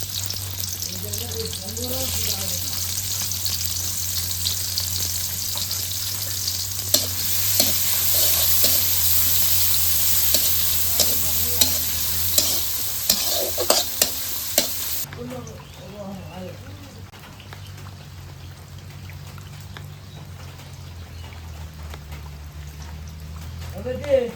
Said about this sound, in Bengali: এটি তেল দিয়ে দিছি, পেঁয়াজ কুচি দিয়ে দিই এখন